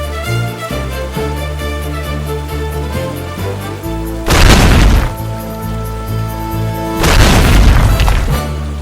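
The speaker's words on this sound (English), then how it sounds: "Après l'horrible explosion" Two heavy booming blasts, each lasting about a second, roar out over a continuous music bed in a French comic-based audio drama, the second arriving a few seconds after the first.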